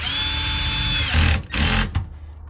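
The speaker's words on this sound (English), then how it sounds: "I'm using a Milwaukee torque gun, and I'm going to set it to 13." A Milwaukee torque gun tightens bolts while under-seat storage is fitted in a Toyota Tundra: a loud, high motor whine runs for about a second, then gives way to several short, choppy bursts before stopping.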